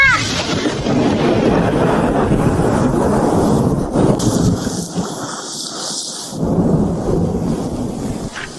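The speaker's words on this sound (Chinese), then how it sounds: "外头打雷了，怕是马上要下雨。" Thunder rumbling over heavy rain and gusting wind outdoors, a loud, continuous low roar with a brief lull midway before the downpour surges again.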